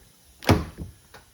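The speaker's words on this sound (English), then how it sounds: "Simply going to open the door" The door of a 2022-or-newer Jeep Grand Cherokee is opened: one close, solid thunk of the latch and panel, followed by a softer click, in an otherwise quiet setting.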